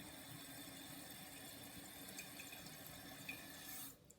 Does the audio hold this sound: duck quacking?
no